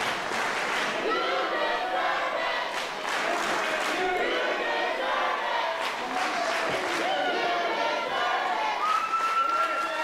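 Wrestling crowd at a TIW tag team championship match chanting loudly and steadily in rhythmic unison, with cheering and shouts filling the whole stretch and voices talking over it.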